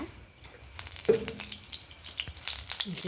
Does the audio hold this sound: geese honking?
no